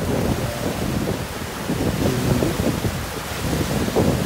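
Niagara Falls thunders in a steady, broadband roar of rushing water, heard loud and close without a break, with a windy rumble mixed into the continuous wash.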